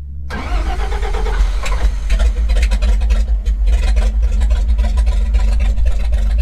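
A 1962 Chevy one-ton truck engine cranks and catches almost at once, then settles into a loud, rough, steady idle close by.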